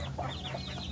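A sick chicken with a respiratory illness and white diarrhea makes short, close clucking and wheezy snoring sounds over a steady low background hum, all within about a second.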